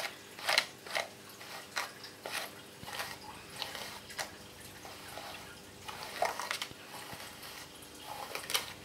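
Scratchy bristle strokes of a Michel Mercier detangling brush drag and snag in quick, uneven bursts, close and fairly quiet, like a brush pulled repeatedly through tangled hair.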